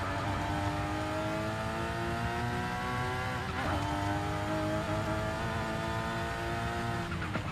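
A racing video game car engine roars steadily and loudly, pitch dipping on a downshift through a corner then climbing again as the throttle opens, with tire noise underneath.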